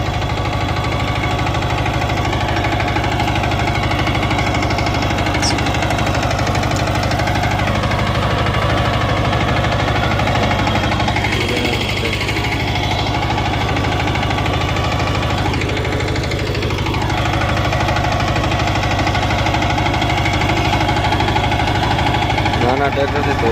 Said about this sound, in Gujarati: નાના ટ્રેક્ટરથી ધોરિયા નાખવાનું